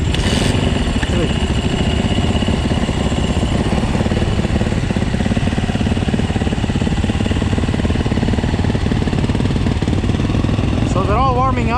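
Several dirt bikes, a Yamaha YZ450F, a Husaberg FX450 and a Husqvarna, warming up together, their engines a loud, steady, close mechanical drone that holds for the whole stretch, with a voice briefly over it near the end.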